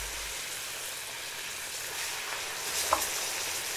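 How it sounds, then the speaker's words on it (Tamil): Chicken with curry leaves frying on a medium flame gives off a steady, close sizzle with a short stirring clink near the end, and no voices are heard. "மீடியம் ஃப்ளேமில் ஒரு 7 நிமிஷத்துக்குள்ளே நல்லா ஃப்ரை ஆகிடுங்க"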